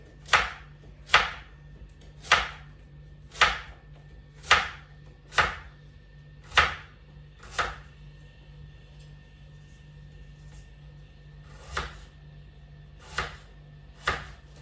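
Sour apples being chopped for a charlotte cake, a series of crisp knife strikes on a board at a regular pace, about a dozen chops with a brief pause near the middle.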